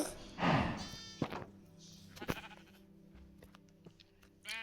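Sheep in a video game, a loud wavering bleat near the start followed by a few fainter bleats and clicks over a quiet game background.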